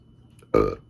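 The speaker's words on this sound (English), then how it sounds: "I burped and made a little more room." A single short, close burp after drinking Breckenridge Christmas Ale, a brief throaty belch rising out of near silence.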